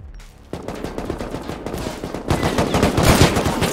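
Rapid gunfire crackles in the Rust video game during a clan raid, a dense burst of sharp shots that starts after a brief lead-in and grows louder toward the end, with no talk over it.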